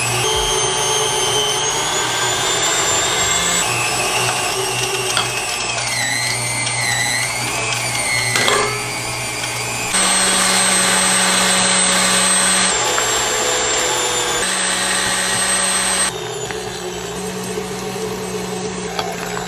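Food processor chopping pork belly, shoulder and snout for Lao sausage, a loud steady motor whine that shifts pitch as the load changes, with brief pauses and restarts between pulses.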